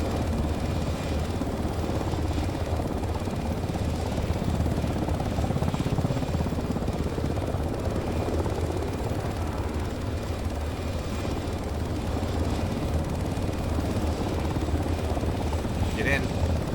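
A helicopter runs on the deck during a live military operation, its rotor and turbine roar steady and loud throughout, close by, with no clear speech over it.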